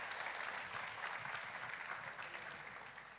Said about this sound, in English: Can we have a bigger round of applause, everyone?